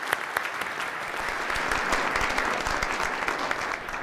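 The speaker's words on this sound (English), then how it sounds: "If I might just impart a quick round of applause to Governor Herbert and thank him for" A ballroom audience at a growth and prosperity summit applauds Governor Herbert with steady, dense clapping that holds at an even level for about four seconds, with no talk over it.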